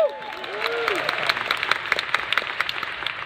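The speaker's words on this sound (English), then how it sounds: "so you better clap for him." Audience at a data-visualization competition event clapping, a dense, steady wash of applause that swells at the start and holds at moderate loudness, with sharper individual claps poking through toward the end.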